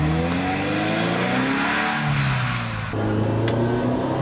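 A Ferrari 328 GTB drives along, its engine note rising steadily in pitch as it accelerates, then dropping briefly at a gear change before pulling again, heard from inside the car, loud and continuous.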